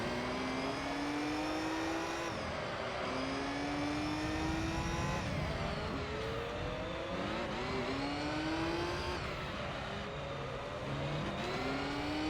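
A race car's engine in Gran Turismo 3 on the Special Stage Route endurance race, running on cold tires, drones steadily and revs rise in repeated climbs through the gears, with shifts and short dips, loud and continuous with no talk.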